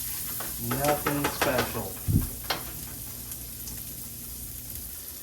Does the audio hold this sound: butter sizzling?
yes